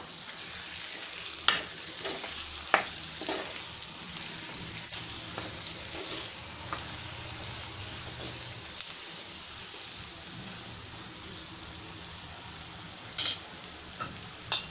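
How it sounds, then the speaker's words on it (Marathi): Masala for stuffed brinjal sautés in a pan, a continuous soft sizzle with occasional stirring taps and scrapes, close by and without talk, a brief sharper clatter near the end. "असं परतून घेऊया."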